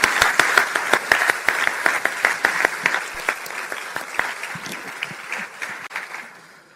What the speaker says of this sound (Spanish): Un fuerte aplauso, mucho más fuerte,